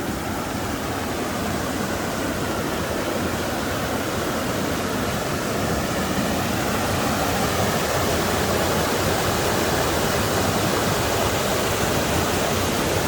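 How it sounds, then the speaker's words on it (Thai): Floodwater rushes hard and fast down a forest stream at Huai Kaeng Kok, so heavy it resembles a burst dam: a loud, unbroken broadband roar that holds steady the whole time, with no voices. "น้ำไหลแรงมากอ่ะคือ"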